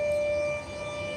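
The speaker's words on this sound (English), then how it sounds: "There goes the siren, man." A civil defense siren sounds at night around 9 p.m., a steady sustained wail filling the whole clip at high level, with no talking over it.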